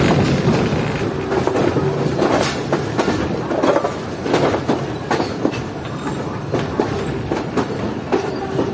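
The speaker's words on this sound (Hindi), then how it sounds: "एक बार और ट्रैक चेंज कर लिया ट्रेन ने," Passenger train rolling over rails on the line toward Sialkot in rain, switching tracks, with a steady rumble and irregular clickety-clack wheel beats as cars cross points, loud and close from inside the train.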